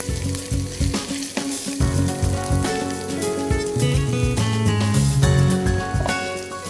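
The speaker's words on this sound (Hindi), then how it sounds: "अभी इसमें डालते हैं अनियंस" Onions hit hot olive oil in a pan and crackle into a steady, close sizzle that holds at full level throughout, with no talking.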